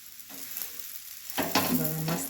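A dosa sizzles on a hot pan just after being flipped. A soft, steady frying hiss swells into louder sizzling and scraping partway through, with no talking.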